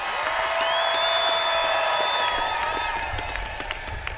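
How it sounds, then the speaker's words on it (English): A large crowd at Governor Gretchen Whitmer's inauguration ceremony claps and cheers in a loud, sustained wash, with whistles and whoops rising over the applause before it thins toward the end. "Make some noise. Clap your"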